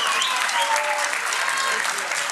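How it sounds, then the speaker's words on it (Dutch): A studio audience at a Dutch student quiz show gives a loud, steady round of applause for departing contestants, the dense clapping filling the hall without a break. "geef ze wel nog even een applaus, dames en heren"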